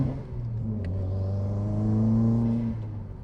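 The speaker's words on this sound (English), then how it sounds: "You gotta have a little bit of fun in second gear" A Subaru WRX STI engine revs up steadily while accelerating in second gear on a cold engine, a loud, close, continuous rumble whose pitch climbs and then drops off near the end.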